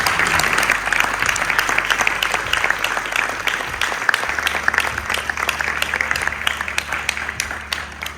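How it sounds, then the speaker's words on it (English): Applause for graduating students at an ISKCON Leicester Vedic studies college ceremony, a full room clapping steadily for about eight seconds with crisp individual claps audible, tapering slightly at the close. "Let's have a round of applause for all the students that are graduating"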